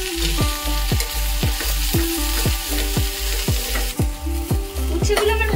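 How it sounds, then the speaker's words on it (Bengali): Sliced bitter gourd fries in a pan with salt and turmeric, giving a loud, steady sizzle broken by a regular series of scraping stirs from a spatula, close by and with no talk over it. "এবার আমি এতে দিয়ে দিচ্ছি অল্প পরিমাণে নুন, সামান্য পরিমাণে হলুদের গুঁড়ো, দিয়ে আমি ভালো করে ভেজে নেব।"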